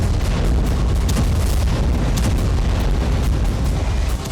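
A drone strike sets off a huge volcano-like explosion at a gas storage base, heard as a loud, continuous roaring blast with crackling bursts layered over a deep rumble and no pause.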